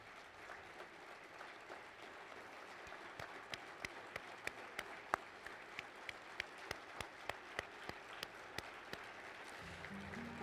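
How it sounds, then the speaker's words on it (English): A banquet crowd at the 2013 Dawahares KHSAA Hall of Fame dinner applauds the inductee class, a soft, distant wash of clapping with a few sharp nearby claps standing out in a steady rhythm. "how about one more big round of applause for the 2013 class of the Dawahares"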